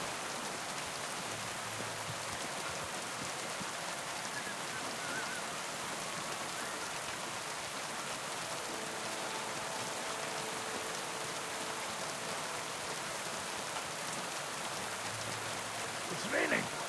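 Steady rain falls in the video game Kingdom Come: Deliverance II, a continuous soft, hissing wash of drops that stays even and moderately quiet throughout.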